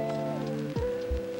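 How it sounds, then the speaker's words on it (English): Rain falling outside a window, a soft steady patter running continuously beneath sustained tonal music. "Your gaze drifts towards the window, noticing the rain outside has picked up."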